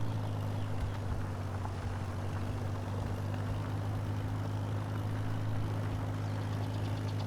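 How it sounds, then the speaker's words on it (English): A tractor in the Farming Simulator game, plowing a 1955 historical farm, runs with a steady low engine drone as its rear tires spin for traction, continuous and fairly quiet with no talk. "Look at those back tires just spinning. They just are not getting enough traction."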